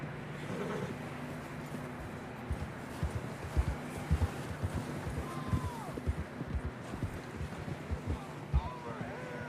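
Horse hooves clip-clop along steadily in Red Dead Redemption 2, a run of soft, regular thuds close by over a low ambient bed of wind and outdoor noise, with no talk.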